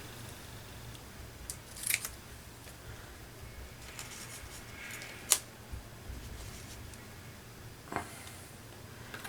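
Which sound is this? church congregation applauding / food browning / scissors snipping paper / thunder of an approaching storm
scissors snipping paper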